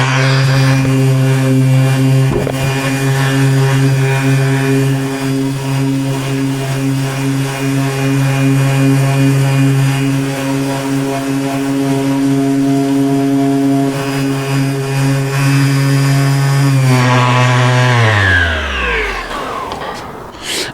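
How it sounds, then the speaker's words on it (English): An orbital sander works over a painted motorcycle part on a GPz project, with a continuous loud high whine that holds steady and then spins down in pitch near the end, with no talking. "So now I'm going to use my orbital sander and just go over this area again"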